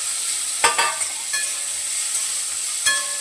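Ginger and garlic dropped into a pan with onion and coconut, sautéing with a faint steady sizzle and a few soft stirring clicks and scrapes, no voices over it.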